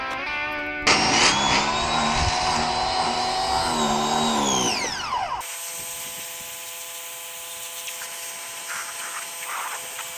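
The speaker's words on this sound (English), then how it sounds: "Fioboc MoveMaster versus 2000 PSI high-powered pressure washer." A 2000 PSI high-powered pressure washer blasts against stretchy jeans, a loud, harsh hissing roar with a whining motor tone that surges, sweeps downward and stops, followed by a quieter lingering hum.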